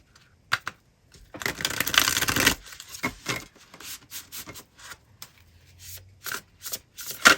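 Tarot cards shuffled and drawn up close: a dense riffling burst early on, then a string of sharp slaps, flicks and rubs as cards are laid down, fairly crisp against silence.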